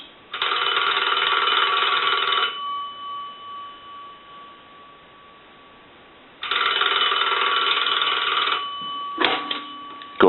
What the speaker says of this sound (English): We can go ahead and ring the telephone.